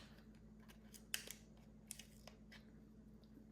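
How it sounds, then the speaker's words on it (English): Scissors handled near plastic packaging produce a few faint, sharp metallic snips and clicks in a quiet room, isolated ticks scattered over a few seconds with no talk. "I've got some scissors here."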